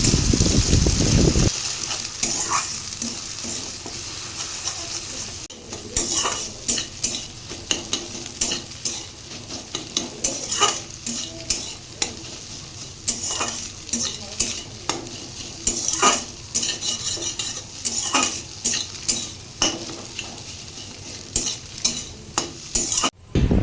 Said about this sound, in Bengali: এরপরে ডিমটাকে ভেজে তুলে রাখবো